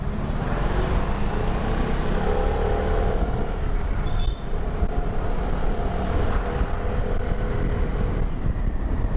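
A Vespa Sprint scooter rides steadily along a road, its engine hum buried under heavy, constant wind rush at the microphone, with no voices.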